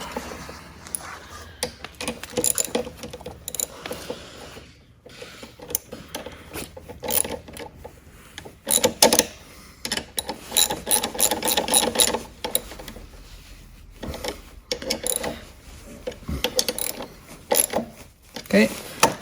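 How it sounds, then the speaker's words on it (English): A hand ratchet fitted with a 10 mm socket is worked on an electric ATV's gear shifter, giving bursts of rapid clicking mixed with metallic handling noises and brief pauses, close up and alone. "grab my ratchet with the 10 mil"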